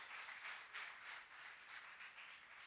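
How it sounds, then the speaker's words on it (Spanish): A church congregation at Iglesia El Shaddai applauds during a sermon, a steady, fairly faint wash of many hands clapping from across the hall, with no speech over it. "Dale un aplauso."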